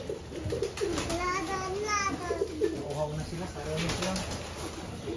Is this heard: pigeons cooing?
yes